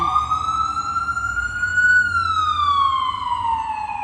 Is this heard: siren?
yes